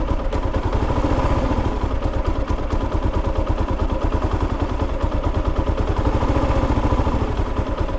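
A Kawasaki KLR650 single-cylinder motorcycle engine idles roughly at low revs, barely staying running, with a close, loud, steady rapid thumping pulse and mechanical clatter throughout.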